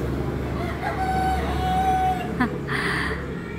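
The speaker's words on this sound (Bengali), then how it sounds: "এটা কিন্তু অরিজিনাল মুরগির ডাক, এটা কিন্তু কোনো থিমের মধ্যে নেই।" A chicken crows from a small shop beside a Kali Puja roadside display, a faint drawn-out call heard over steady crowd and street noise.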